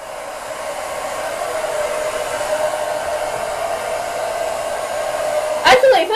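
A hair dryer fitted with a diffuser runs steadily while drying curly, wavy hair, a loud continuous whoosh held close for several seconds, with a brief rustle and shift near the end.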